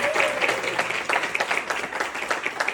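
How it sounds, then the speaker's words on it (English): Civic association meeting audience applauds award-winning kids with a steady crowd of close hand claps, bright and continuous for a few seconds. "So let's give them a big round of applause."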